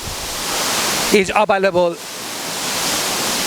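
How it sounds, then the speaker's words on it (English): The Nyauli Jharna waterfall in Lapubesi, Northern Gorkha, roars as a steady broadband rush throughout, with a person speaking briefly over it. "You can enjoy the beauty of nature here because Nyauli Jharna or waterfall"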